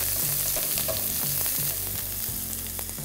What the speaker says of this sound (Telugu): సన్నగా తరిగిన అల్లం, పచ్చిమిరపకాయలు, అలాగే ఉల్లిపాయలు కూడా కొన్ని కట్ చేసినవి ఇందులో వేసి లైట్గా వేయించేసుకోండి